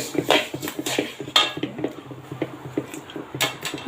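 A metal karai wok is set on a stove, bringing a cluster of clanks and scrapes of metal cookware, several sharp knocks close by among lighter clicks, with no voices.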